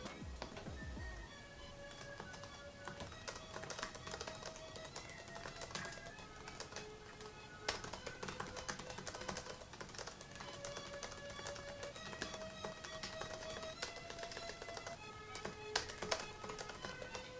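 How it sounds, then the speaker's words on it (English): Steady, quiet keyboard clatter on a 2010 MacBook laptop, with rapid key taps running throughout, soft and close, with no talking. "It's really nice to type on, it's quiet, here's some audio of that."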